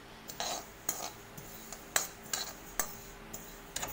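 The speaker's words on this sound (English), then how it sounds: "In a hot pan, dry roast sesame seeds." Sesame seeds dry roasting in a hot pan with no oil, stirred by a utensil that clinks and scrapes against the metal in about ten short, separate taps and scrapes, close and fairly quiet.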